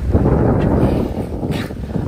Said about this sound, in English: Nothing but the wind driving us.